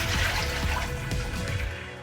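Running water splashes steadily as the removable water tank of an Eletta Cappuccino coffee machine is rinsed under a tap, a close, continuous gush that eases off at the end.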